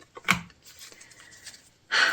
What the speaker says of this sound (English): as I finish up shuffling out the cards